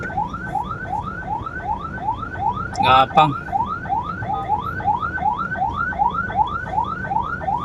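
An ambulance siren wails in slow traffic, a repeating rising yelp cycling about twice a second, loud and close, with a short honk-like burst midway and a voice speaking briefly.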